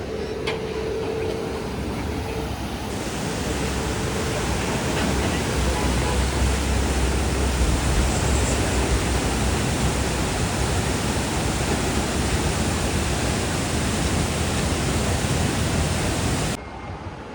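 Fast-flowing river water near Manali rushes in a steady, loud broadband roar that holds for the whole stretch, with a brief faint tone near the start before the flow swells slightly and cuts off abruptly near the end.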